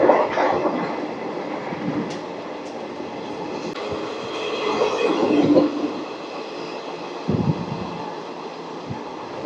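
Riding aboard the Rayagada–Guntur Express, a steady loud rumble and wind rush fills the carriage, with rhythmic clacks of wheels over rail joints and a few sharper knocks near the end.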